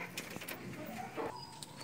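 Racing pigeons in a loft give soft, low cooing calls, faint and intermittent against a quiet indoor background.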